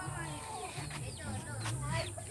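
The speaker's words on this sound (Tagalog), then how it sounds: "Ayan, ito mga manok dito sa bila, ito na sa kapitbahay ko yan" Chickens kept at a neighbour's place, heard as soft clucking and bird calls in the background, faint and somewhat distant, while someone talks over them.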